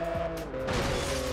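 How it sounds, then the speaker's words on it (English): A traffic car slams into the player's car in the PS2 racing game Test Drive Unlimited, a sharp crunching impact over the steady hum of game engines and music, with no voices. "The AI car crashed and the car, traffic car, ended up going into our own car."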